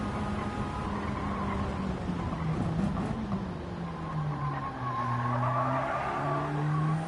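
A race car in a racing video game brakes hard into a hairpin, engine note dropping and squealing tyres skidding under a steady, loud engine drone with no talk.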